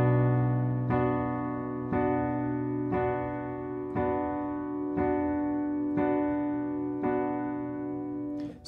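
Piano plays the introduction to a song with the sustain pedal down, eight evenly spaced struck chords ringing into one another over a held bass, close and clear with no voice.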